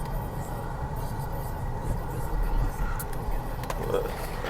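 A 2012 Hyundai Sonata rebuilt from an auction car drives along, its engine giving a steady low rumble with road noise throughout and a slight rise in level midway.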